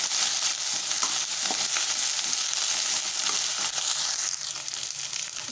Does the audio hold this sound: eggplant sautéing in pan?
yes